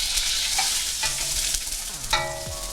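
Finely chopped cassava fries in a very hot pan with pork lard, giving a steady close sizzle with a few stirring scrapes and clinks.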